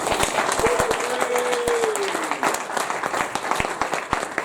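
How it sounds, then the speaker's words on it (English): A standing audience at a short-presentations event applauds together, a dense steady clapping that fills the room, with a brief whistle or cheer rising over it midway. "Big round of applause."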